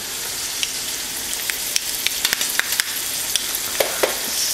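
Shrimp frying in garlic butter in a pan, a steady close sizzle with scattered small pops and crackles throughout, no voices.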